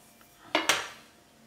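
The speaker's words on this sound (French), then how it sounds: "prendre le petit bouquet qu'on avait gardé, le petit bouquet de brocoli. On va couper à ras." A kitchen knife slices through the stem of a small broccoli floret: two quick sharp cutting clicks against a board, close and distinct, with quiet around them.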